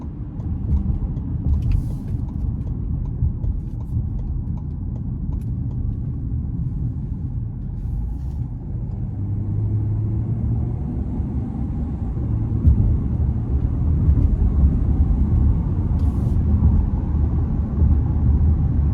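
A 2023 Lincoln Nautilus with the 2.0-litre turbo engine accelerates onto an interstate, heard from inside the cabin as a steady low engine and road rumble that swells slightly toward the end.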